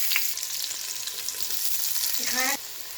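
Onion sizzling as it drops into hot oil already frying with whole garam masala, a steady bright crackle filling the pan and swelling briefly before cutting off near the end.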